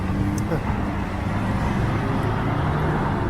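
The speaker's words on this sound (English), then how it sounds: "This can be a traffic nightmare here at rush hour" Busy city street in downtown Toronto near Spadina, with a steady wash of cars, buses and trucks rolling past nearby at rush hour, heard under occasional talk.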